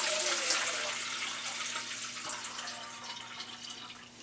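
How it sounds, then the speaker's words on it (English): Water pours steadily into a bowl with a continuous splashing rush, close by, slowly easing off over a few seconds; no talking. "I'm going to pour them into this bowl."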